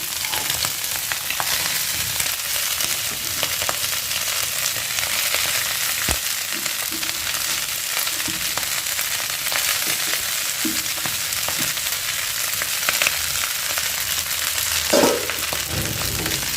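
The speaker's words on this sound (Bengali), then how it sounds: "তো এটাকে এবার ভালো করে নেড়ে নিতে হবে, তাহলে আমাদের পাস্তা রেডি হয়ে যাবে।" Pasta stir-fried in a pan with fried onion and chili gives a steady, moderately loud sizzle throughout, with occasional scrapes and clinks as the food is stirred.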